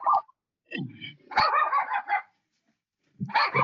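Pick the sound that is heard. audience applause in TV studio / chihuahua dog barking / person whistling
chihuahua dog barking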